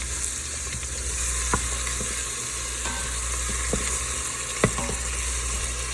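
Pav bhaji sizzling steadily in an Instant Pot on sauté mode, a continuous hiss with a few sharp utensil clicks and scrapes from stirring, close and moderately loud, no talking.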